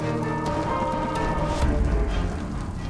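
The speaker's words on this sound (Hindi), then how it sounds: "हमें क्या पता था कि आज ही बारिश हो जाएगी" Rain falling at an outdoor wedding function venue far from home, a steady close patter of drops on surfaces forming a continuous wash with no talking.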